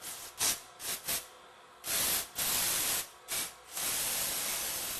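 Bursts of compressed air blast gunk off Meyer E-60 snowplow pump parts, sharp loud hissing sprays in short puffs at first, then longer sustained blasts close by, with no speech.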